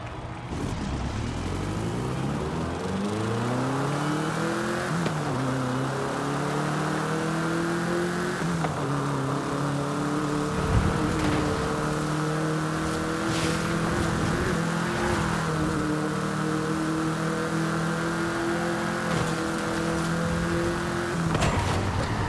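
A Bocho car driven in the video game Forza Horizon 5, its engine droning loud and steady as the pitch climbs and drops again through repeated gear shifts, with no speech over it.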